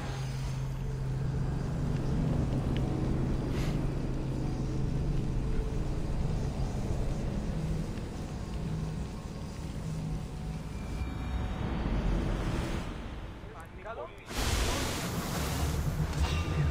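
A ship at sea in Assassin's Creed Odyssey, with a continuous loud rush of wind and surf building over the scene, then a sudden brighter wash of water and spray near the end.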